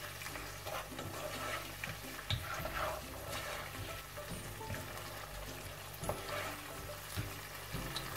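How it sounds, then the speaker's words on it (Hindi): Boiled spinach and fried potatoes sizzling steadily in a pan over medium-high flame, a soft continuous frying hiss with occasional stirring taps, no talk. "तो फ्लेम थोड़ा सा मीडियम से हाई करते हैं और इसको भून लेते हैं।"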